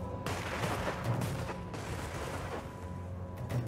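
Gunfire in the video game Bionic Bay comes as repeated muffled booms and sharp shots over a dense, droning game soundscape, with no one talking.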